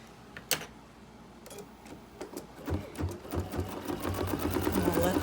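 An embroidery sewing machine stitching a small flag design. After a quiet start with a few clicks, rapid mechanical needle ticking begins and builds into a steady, close whir, with a voice faintly present early on.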